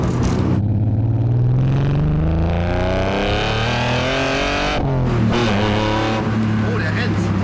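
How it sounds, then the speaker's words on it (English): A self-built Ferrari F40 replica on a BMW M3 base runs loud and close, its engine note rising and falling through revs with a brief dip midway, while people talk over it. "Motor läuft"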